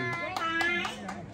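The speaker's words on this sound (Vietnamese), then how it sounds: "Vỗ tay đây rồi, vỗ tay, vỗ tay." Several people clap hands at a child's first birthday party, a rhythmic run of sharp claps with voices and a child's chatter mixed in the background.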